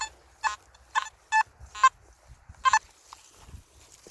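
A Nokta Simplex metal detector sweeps over a field and gives a string of short warbling signal tones, about six irregular beeps over a quiet background with faint handling noise.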